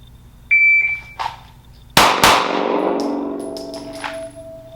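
Handgun shots fired during a timed shooting drill, with a shot timer beep before two sharp, loud reports in quick succession that ring out and decay, followed by fainter clicks and a tone.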